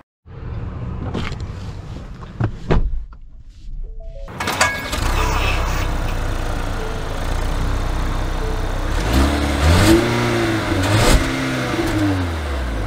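A 2024 Ford Edge ST-Line starts up and then accelerates. The engine drone builds loud and steady, with a rising note from the motor and a few clunks early on.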